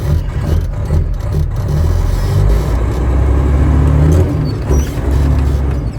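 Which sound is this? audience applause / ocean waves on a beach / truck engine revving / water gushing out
truck engine revving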